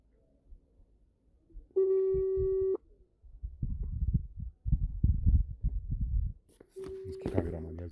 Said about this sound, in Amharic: አሁን እየጠራ ነው።